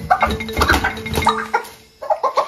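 A hen clucking nearby in a series of short, loud, throaty bursts, pausing briefly before a few more clucks.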